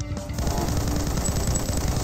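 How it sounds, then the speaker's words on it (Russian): A dense stream of rapid gunfire rattles steadily for about two seconds, close and moderately loud, with game-like background noise, in the game Dwarfenstein. "Пара выстрелов"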